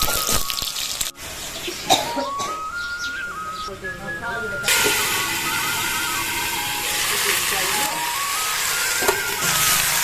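Onion hits hot oil with curry leaves and green chili and sizzles loudly, a broad steady hiss that swells partway through, with a voice talking and a whistling tone heard early.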